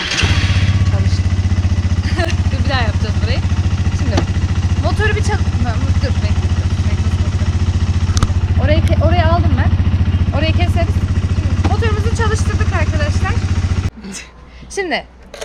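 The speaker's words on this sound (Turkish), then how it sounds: "Şimdi motoru bir çalıştıralım arkadaşlar. Bir sesini duyun." A motorcycle engine runs steadily and loudly at close range, a constant deep drone that cuts off near the end, with someone speaking over it.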